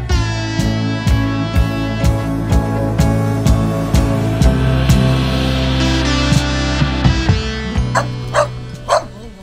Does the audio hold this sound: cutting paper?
no